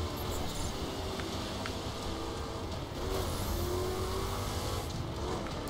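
Car engine racing in The Crew video game, a loud, steady roar at high revs that holds throughout, with faint tire noise and wind, no talking.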